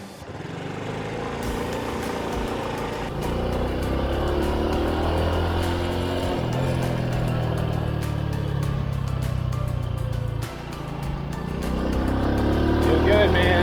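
A Honda motorbike in Vietnam runs its engine steadily up close, the drone rising and falling with throttle changes and a brief dip before revving up again.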